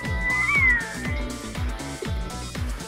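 A cat meows in a Windows Phone mobile game, with a drawn-out, rising and falling cartoon meow over a looping, thumping game soundtrack.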